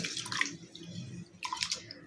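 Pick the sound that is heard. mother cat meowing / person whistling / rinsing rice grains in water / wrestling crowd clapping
rinsing rice grains in water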